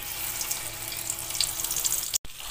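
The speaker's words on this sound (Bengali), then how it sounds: "এবার মাছগুলোকে ভেজে নেব।" Prawns fry in hot oil with a steady, close hiss of sizzling that runs on continuously, cut by a brief moment of silence near the end.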